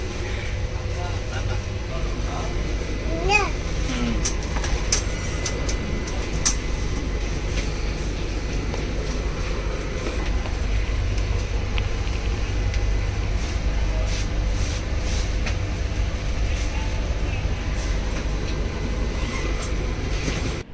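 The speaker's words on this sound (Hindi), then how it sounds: "फिर ट्रेन यहाँ से खुल गई नागपुर से।" Low rumble and rattling of a passenger train pulling out of Nagpur station, heard steadily from inside a carriage, with scattered clicks and faint background chatter.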